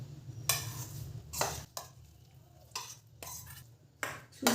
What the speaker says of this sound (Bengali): সুজিটা দিয়ে ভালো করে মেশাবো।